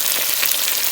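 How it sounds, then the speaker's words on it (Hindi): Garlic-ginger paste and chopped chillies hit a hot pan of meat for Peshawari namkeen gosht, giving a loud, steady broadband sizzle with small bursts of crackle and no voices. "चलो अब मैं डालती हूँ इसमें लहसुन अदरक का पेस्ट, चौकी मिर्चें"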